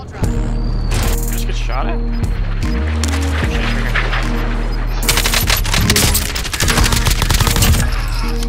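Kilo assault rifle firing in Call of Duty Warzone, rapid automatic bursts cutting in and out over a steady game soundscape, loudest in two long volleys near the end.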